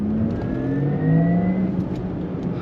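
A Porsche Taycan 4S electric car accelerates hard from the driver's seat, its motor giving a rising whine with steady tonal sweeps over road and wind noise.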